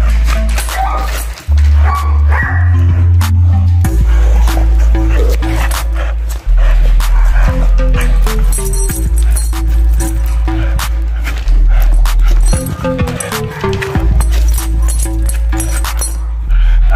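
Dog growling and barking while tugging on a bite toy during training, loud and close, with sustained deep growls broken by yips, whimpers and sharp barks over most of the stretch, plus some scuffling handling noise.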